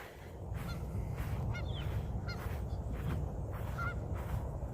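Geese honk at an old theme park outdoors, several scattered calls at moderate distance rising over a constant low rumble of background noise.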